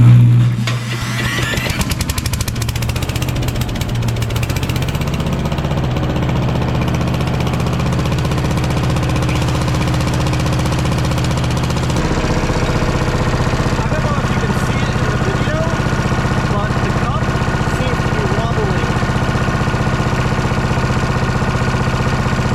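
A Troy-Bilt CS4325 chainsaw engine catches on a cold start and keeps running, a loud steady buzzing drone throughout after a brief initial burst.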